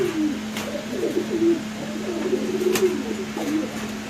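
Caged pigeons coo in soft, repeated low murmurs that run steadily throughout, with a faint steady hum behind them.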